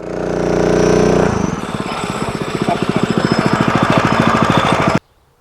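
A gas-powered rental post hole digger engine revs loudly up close, then settles into a fast, rhythmic chugging pulse before cutting out abruptly.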